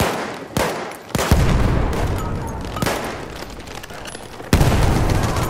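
In the video game Battlefield 1, a grenade explosion and heavy gunfire crack out in close, loud bursts. Several sharp blasts punch through a continuous roar of battle.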